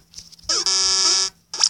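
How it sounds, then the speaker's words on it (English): End-of-quarter buzzer in the basketball video game Bouncy Basketball, one sustained electronic buzz lasting under a second, loud and close, with brief game sounds around it. "Get the buzzer beater off in time."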